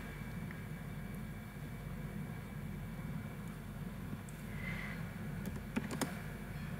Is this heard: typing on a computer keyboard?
yes